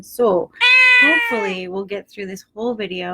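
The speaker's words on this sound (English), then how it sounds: "you may hear some meowing in the background" A house cat meows loudly and repeatedly in the background, long drawn-out meows rising over a person talking close by.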